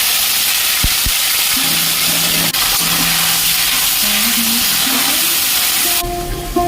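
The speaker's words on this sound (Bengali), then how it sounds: "ফোড়ন দেওয়ার পরেই দিয়ে দেবো আদা, রসুন, পেঁয়াজ ও কাঁচা লঙ্কার বাটাটা।" A paste of ginger, garlic, onion and green chili fries in prawn-flavoured oil with bay leaf and cumin, a loud, steady close sizzle that hisses throughout, broken by a few sharp clicks and ending with a drop in intensity.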